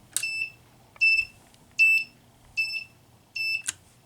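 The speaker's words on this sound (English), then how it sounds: "And I'll do the test button real quick." A homemade fire alarm system sounds during its test, giving five loud, shrill electronic beeps at steady intervals of about three-quarters of a second, with no talking.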